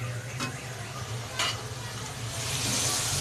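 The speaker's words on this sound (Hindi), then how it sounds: "अब चिकन अच्छी तरह भून चुका है।" Chicken fries in a pan for a tinday (apple gourd) and chicken dish, a steady close sizzle with a few scraping stirs, no one talking.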